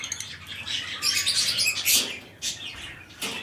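A pair of cockatiels and other aviary birds, including pale fallow and opaline birds, chirp and tweet in a busy, bright chorus nearby, with overlapping calls and occasional wing flutters.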